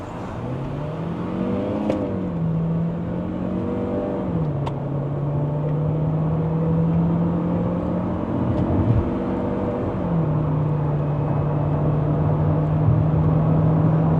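Jaecoo J7 AWD accelerating hard from a launch in Sport Mode, engine note climbing steadily in pitch with brief dips at gear changes, a continuous close in-cabin roar with road noise underneath.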